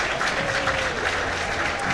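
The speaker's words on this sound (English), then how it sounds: "Get a round of applause for UL here at the minute." A crowd at an athletics meet applauds a relay team, a short burst of steady, moderately loud clapping from a distance, with a faint voice under it.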